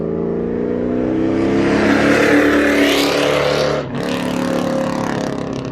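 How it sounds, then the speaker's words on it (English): A 1999-2004 Ford Mustang GT with a 2-valve V8 and aftermarket exhaust revs up loudly and climbs in pitch, drops sharply with a brief dip, then settles into a steady rumbling drone, close and without speech. "They're one of the best sounding V8s in my opinion."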